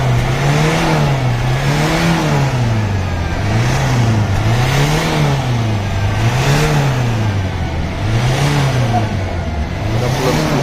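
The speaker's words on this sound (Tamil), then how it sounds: "ரேஸ் பண்ணுறாங்க." An engine revs repeatedly in a workshop demo ahead of engine cleaning while the vehicle puffs out black smoke, the pitch rising and falling in a steady cycle of about six loud, close revs.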